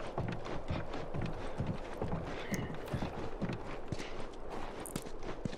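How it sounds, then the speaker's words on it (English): A horse walks in The Last of Us, its hooves clip-clopping in a steady, even rhythm throughout, fairly faint with soft background ambience. "We rode the horse out that way."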